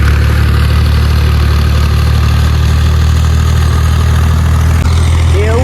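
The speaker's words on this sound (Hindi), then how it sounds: "ट्रैक्टर आगा चली वधे फुल।" A tractor engine idles loud and close with a steady, low, throbbing drone throughout, and a brief shift in pitch near the end.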